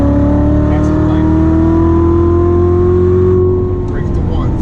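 Corvette engine pulling hard on a race track, a steady loud in-car drone with rising harmonic tones as it accelerates flat out, a voice talking over it throughout.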